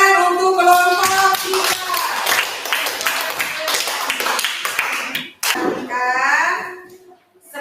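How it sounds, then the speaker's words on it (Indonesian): Classroom applause for a student group after a balloon demonstration, a small group clapping loud and close while children's voices chatter over it, then a short pause and a brief burst of talk. "tepuk tangan untuk kelompok"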